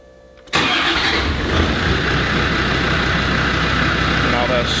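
Land Rover Discovery engine cranking and catching, then running at a steady rumbling idle, loud and close after a brief quiet opening.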